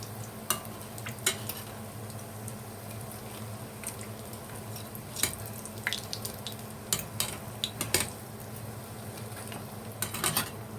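Bread-dough croissants fry quietly in hot oil on a gas stove, giving a faint, steady sizzle broken by scattered small pops and clicks.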